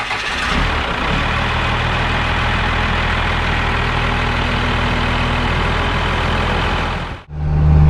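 A 12-valve 5.9 diesel truck engine fitted with an S&B cold air intake runs steadily and loudly up close with a deep idle rumble, then cuts off abruptly near the end.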